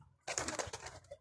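Pigeons at a loft give a brief burst of cooing and bird sounds, close and fairly loud, lasting about a second with no talk.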